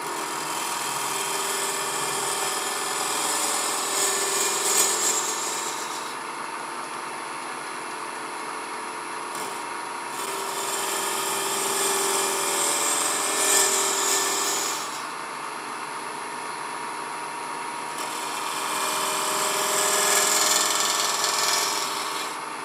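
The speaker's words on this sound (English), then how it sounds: "I'm kind of pushing and rotating the handle so I keep that that cutting edge moving in through the wood" A gouge cuts a cove into spinning wood on a lathe, giving three long, close passes of raspy, hissing shaving that swell and fade over a steady motor hum.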